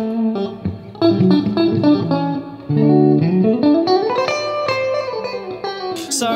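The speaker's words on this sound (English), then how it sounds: "Built in spring type reverb." An electric guitar played through a BluGuitar Amp 1 with its built-in spring reverb rings out in picked notes and chords, then a rising bend, each tone trailing a springy wash.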